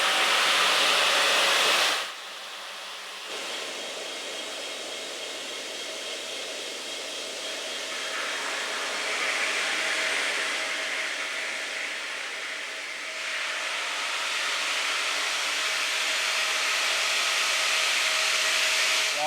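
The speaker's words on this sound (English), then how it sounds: "as you will see in the different processes where we're sawing live, this does quite a job in cutting through the limestone" A diamond saw grinds steadily through limestone in a stone quarry, giving a loud, continuous abrasive hiss that runs without a break and swells slightly partway through.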